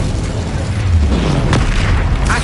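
An Incendio fire spell bursts in a Harry Potter video game, a loud, dense booming blast with a rumbling low end that fills the whole moment, with no speech.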